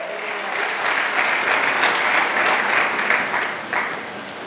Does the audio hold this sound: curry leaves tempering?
no